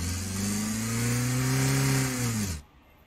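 Audi TT car engine in the Roblox racing game, revving loud and steady with a rising engine drone that holds for about two and a half seconds, then cuts off abruptly into near silence.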